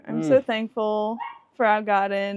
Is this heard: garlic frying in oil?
no